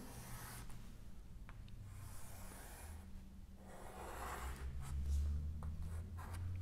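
A pen or marker scratches across a surface while drawing a triangle, with soft irregular strokes and pauses, quiet and close with no talk.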